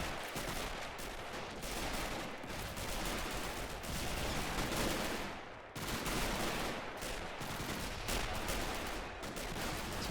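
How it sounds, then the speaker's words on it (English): Close-range infantry trench fighting in the Men of War game rattles with dense, continuous rifle and machine-gun fire, overlapping loud shots with a brief lull midway. "It's really gruesome trench fighting right now, as you can tell."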